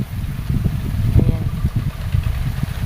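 A farm irrigation pump engine running steadily, a low chugging idle with a regular rhythmic thump, moderately close and fairly quiet, with no voices over it.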